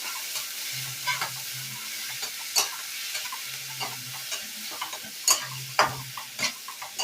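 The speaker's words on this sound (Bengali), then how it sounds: "পেঁয়াজ আর আদাটা কিন্তু একটু ভালো করে তেলে ভেজে নেব।" Grated onion and ginger paste fry in oil with a steady close sizzle, broken by repeated scraping stirs and sharp clinks of a utensil against the pan.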